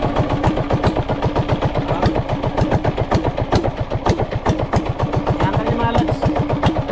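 A small engine idles steadily with rapid, even firing pulses, loud and close, running continuously for the whole stretch with a faint voice briefly over it near the end.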